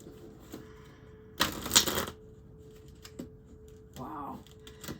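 A tarot card deck is shuffled in a quiet room: a single brisk riffle burst stands out loud, with soft card taps and shuffling noises before and after and a faint steady hum throughout.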